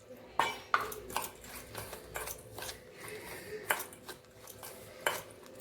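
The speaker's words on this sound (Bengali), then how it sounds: "এখন আমি দুধ দিয়ে ভালো করে এটা গুলাই নিব আস্তে আস্তে" Cupcake batter being mixed with milk in a bowl, a spoon scraping and stirring with several sharp clinks against the bowl's side, quiet and close, in an irregular rhythm.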